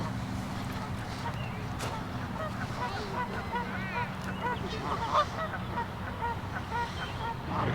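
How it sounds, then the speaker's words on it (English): Geese honk repeatedly at a distance over a constant roar of traffic at Whittier Narrows, San Gabriel, their calls scattered and overlapping. "We got geese."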